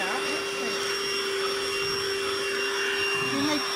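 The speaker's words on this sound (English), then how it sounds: "just let's see how it vacuums" A Lidl cordless vacuum cleaner runs on carpet with a loud, steady high whine and motor hum throughout, and a voice is heard faintly under it.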